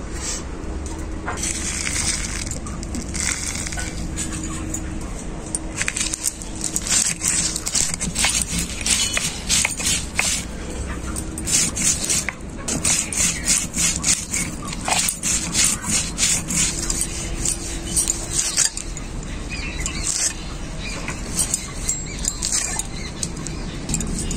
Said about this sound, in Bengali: আদা বাটার সাথে আমি শুকনো লঙ্কা, গোটা জিরে, গোটা ধনে, গোটা গোলমরিচ একসাথে বেটে নেব